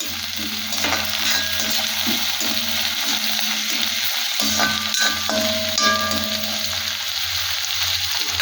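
Vegetables sauté in a pan over a low flame, making a steady, close sizzle with occasional scraping and stirring and no talk.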